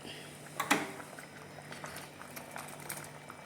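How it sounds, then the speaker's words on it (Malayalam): Drumstick leaf dal curry bubbling in a pot, soft irregular blips and pops at low volume, with a brief louder splutter near the start. "അപ്പോൾ കറിയൊക്കെ നന്നായിട്ട് തിളച്ച് വന്നിട്ടുണ്ട്."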